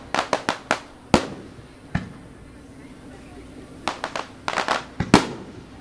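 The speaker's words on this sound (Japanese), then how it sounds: "あの泳ぐ花火をこう中に仕込んでます" Swimming fireworks burst over the 61st Tottori city summer fireworks festival, a rapid volley of sharp cracks and bangs, then a quieter gap before another dense cluster of pops.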